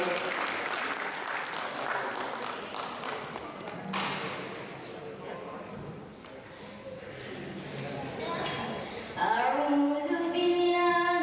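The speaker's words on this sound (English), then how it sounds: "Give him a round of applause, please." An audience gives a young nephew a round of applause for his short Quran recitation. Scattered clapping mixes with people talking, and near the end a melodic chanting voice begins.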